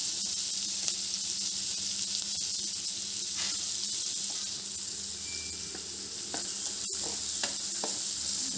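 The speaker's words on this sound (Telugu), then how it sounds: "పసుపు, ఆనియన్స్ తొందరగా మగ్గాలంటే కొద్దిగా సాల్ట్ వేసుకోవాలి." Onions with turmeric and a pinch of salt fry in a pan for egg masala gravy, giving a steady close sizzle with light stirring scrapes throughout and no talking.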